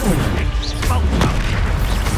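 Expulso explosion spell blasts from Hogwarts Legacy in a tomb battle, a dense booming crash sustained loudly through the moment, with no speech over it.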